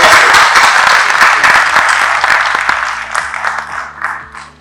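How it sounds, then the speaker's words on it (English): Audience applause at a hospital award ceremony, loud dense clapping that fades out over a few seconds, heard without talk. "Big round of applause for Dr."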